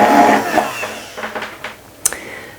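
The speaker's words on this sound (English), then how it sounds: "And just continue blending." A blender whirs loudly as it blends a vegan, oil-free salted caramel frosting, then the motor winds down and fades into quieter clatters and a short sharp knock near the end.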